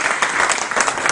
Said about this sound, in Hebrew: אז פשוט תמחאו לו כפיים